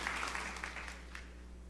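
Applause from a church congregation during a sermon by a pastor, a steady broad patter of many hands clapping throughout, moderately loud and filling the space without speech.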